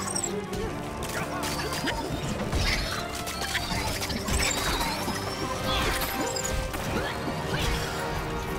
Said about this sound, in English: Gotta destroy this glass to get inside the chamber.